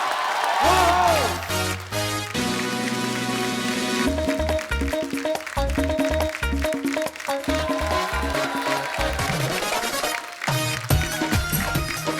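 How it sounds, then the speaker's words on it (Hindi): Studio audience applause greets guests arriving on a comedy talk show, blending with loud, steady music with a heavy beat that fills the whole stretch. "आप सबकी जोरदार तालियों के बीच में आमंत्रित करना चाहूंगा"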